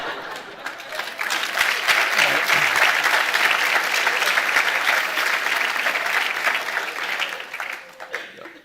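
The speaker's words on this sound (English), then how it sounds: "Don't applaud, it's always from your time." Audience applause at a graduation ceremony, a dense sustained clapping from a large indoor crowd that swells quickly, holds steady for several seconds, then thins out toward the end.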